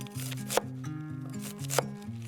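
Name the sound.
knife slicing cabbage into half-inch pieces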